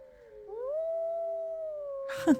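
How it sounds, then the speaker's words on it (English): Wolves in the game WolfQuest howl one long sustained note that rises and then holds steady, clear and fairly loud, with a short burst of other noise at the end. "Got some howling from Big Timber going on over there."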